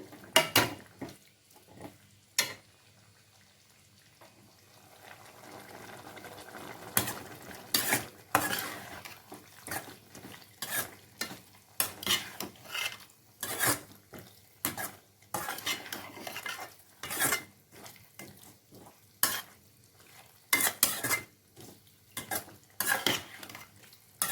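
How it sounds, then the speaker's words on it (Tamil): A utensil repeatedly scrapes and clatters against a pan in irregular bursts as chicken fries in oil with chilli powder, with a low sizzle of frying underneath. "தண்ணி சேர்க்காம பத்து நிமிஷம் இந்த எண்ணெயிலே நல்லா சிக்கனை வறுத்துக்கலாம்"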